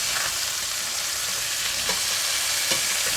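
Pork shoulder sizzles and fries in a pan for grilling, a steady dense crackle throughout with a couple of brief louder pops or scrapes, close and continuous with no talk.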